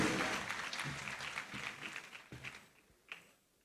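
An audience applauds a student performance by the Justice Club of Prempeh College at a Supreme Court anniversary celebration; soft, distant clapping that gradually thins and fades out.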